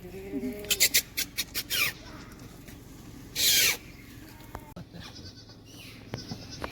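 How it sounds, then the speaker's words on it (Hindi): A flock of sheep bleats in a long line at a hillside road in Khajjiar, several short, close bleats in a rapid cluster, then a longer call, with outdoor ambience. "ये देखिए भेड़ की कितने लंबा कतार है।"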